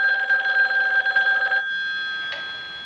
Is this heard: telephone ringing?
yes